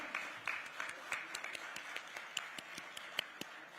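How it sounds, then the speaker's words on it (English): Distant, faint audience applause at a tech awards ceremony, a thin scatter of individual claps with sharp, irregular hits. "Huge round of applause,"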